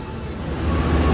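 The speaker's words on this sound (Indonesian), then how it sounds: "Lokomotif yang berdinas untuk rangkaian kereta Pramex Prambanan Express, kereta lokal dari Jogja menuju ke Kutoarjo" Prameks local passenger train from Jogja to Kutoarjo hauled by a CC203 locomotive, a steady low rumble of rolling rail noise that grows slightly louder over a second, with no talk.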